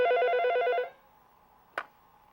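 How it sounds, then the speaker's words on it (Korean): A telephone rings with an incoming call, a loud trilling electronic ring that stops after under a second, followed by quiet and a brief click. "한 통의 전화가 걸려왔다."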